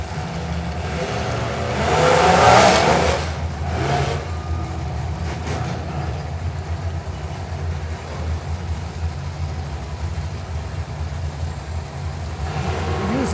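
Demolition derby car engines roar and rev at a county fair, swelling loudly early on then settling into a continuous rumbling drone, like a crowd of vehicles at an arena.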